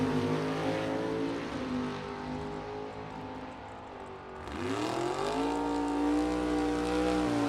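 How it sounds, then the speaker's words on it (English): Two super stock drag cars, one of them a 1968 Chevrolet Camaro, idle loudly at a drag strip starting line, then rev sharply upward, their engines roaring steadily close by. "A pair of Chicagoland super stocks at the starting line."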